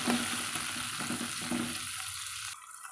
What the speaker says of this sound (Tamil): அதையும் சேர்த்தி நல்லா வதக்கலாங்க